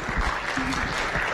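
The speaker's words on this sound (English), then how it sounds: "So let's give a big hand of applause for him." A conference audience at a commercial spaceflight event gives a brief burst of scattered clapping, with a voice briefly audible over it.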